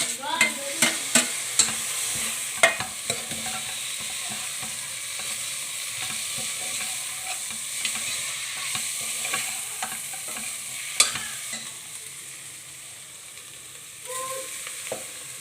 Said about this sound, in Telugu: వేసిన తర్వాత ఒకసారి మనం ఇలా మిక్స్ చేసుకుందాం